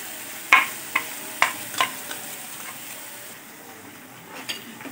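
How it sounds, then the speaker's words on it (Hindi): Tomato and onion puree frying in oil in a pan, with faint background sizzle and a few sharp spoon-on-pan stirring clicks near the start, fading to a quiet simmer. "प्यूरी को हमने अच्छे से भून लिया है"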